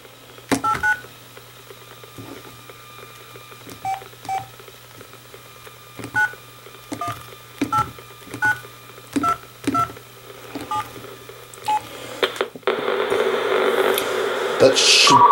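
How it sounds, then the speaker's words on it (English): A number is keyed in on an inexpensive mobile phone, heard as a steady series of about a dozen short DTMF keypad tones at close range. A continuous ringing or connecting tone follows at the end. "I'm going to dial my number here."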